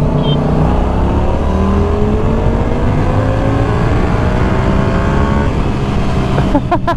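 A Yamaha R7 motorcycle pulls hard in third gear at low speed, engine pitch climbing steadily under heavy wind roar from close by, with a brief burst of fluttering noise near the end.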